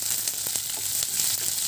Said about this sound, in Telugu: అన్నీ వేసి తాలింపు పెట్టుకోవచ్చు.